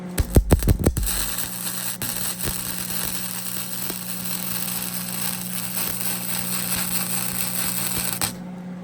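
Flux core welder, converted from MIG, laying a weld bead after a few sharp starting crackles and thumps, then a steady buzzing hiss with a constant hum that runs for several seconds and stops abruptly.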